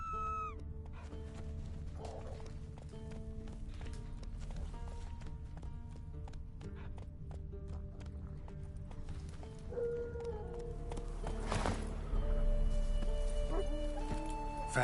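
Roach, a horse in The Witcher 3 on PS5, gallops under a busy game soundscape of music and ambience, with hoofbeats and the occasional whinny. A louder rush of action builds toward the end.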